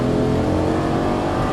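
A Lamborghini Gallardo LP550-2 engine revs hard under throttle with a loud, close, continuous roar that eases slightly toward the end, with no voices over it.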